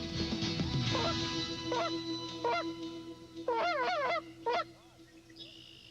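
A man imitates goose honks in the style of a goose call, a series of sharp rising honks in short bursts with gaps between, loud and close inside a crowded tent at a Kentucky Lake bass fishing tournament weigh-in.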